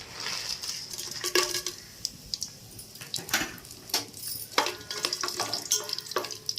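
Ghee and oil sizzle steadily in a pan while chicken biryani ingredients are fried and stirred, with irregular scraping and stirring clicks over the frying, close and fairly loud throughout.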